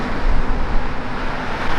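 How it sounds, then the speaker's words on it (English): A bus on the road heading to New York City rolls past nearby with a broad, steady roadside rumble and rushing air, loud and unbroken, with no voices. "That's the bus that goes to New York City back and forth all the time"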